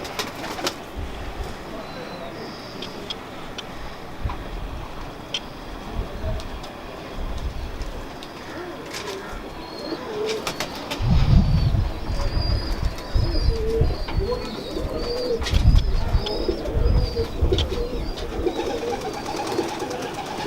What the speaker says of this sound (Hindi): टेडी कबूतर है हमारे